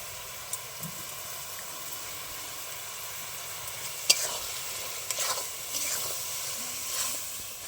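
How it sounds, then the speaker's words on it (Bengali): Spices fry with yogurt in a pan for egg biryani, giving a soft continuous sizzle and hiss with occasional scrapes and clinks of the stirring spoon. "এইবার আমি মশলাগুলো ভালো করে সব একসাথে কষিয়ে নেব"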